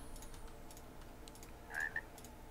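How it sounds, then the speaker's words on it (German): A frog croaks in a Minecraft game, two short faint croaks over a low steady background, no talking. "Ein Frosch."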